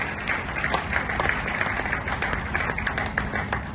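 A seminar audience in Khanna claps loudly for a crowd round of applause, a dense, steady wash of many hands that holds for the whole few seconds without a break.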